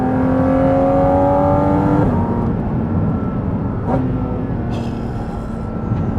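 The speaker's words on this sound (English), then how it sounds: "Oh, just listen to that downshift. The downshifts are so aggressive." Porsche 718 Cayman GT4 RS engine on a wet road, a loud droning note held steady and then dropping sharply on a downshift, followed by rumbling road and engine noise heard from inside the car.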